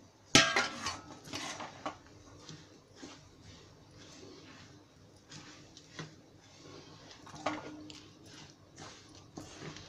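A sesame and jaggery ladoo mixture is stirred in a pan with a metal spoon. Faint scraping and light clinks of utensil on metal repeat unevenly, with one sharper knock near the start and no talking.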